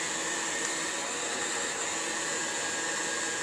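A heat gun blows steadily while warming the edges of a Cliff Keen wrestling headgear decal, a constant close airy whir with no breaks.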